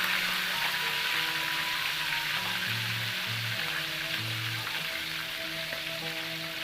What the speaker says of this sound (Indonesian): Ini ayam ungkepnya. Ini langsung aja kita goreng ya.